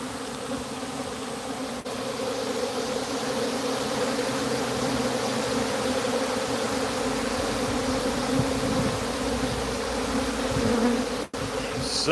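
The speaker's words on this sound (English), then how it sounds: "There's tons and tons of bees right now." A dense, steady buzzing of many honey bees around a hive, loud and continuous throughout, like a swarm close by with no voices.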